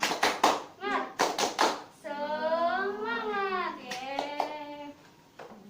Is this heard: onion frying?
no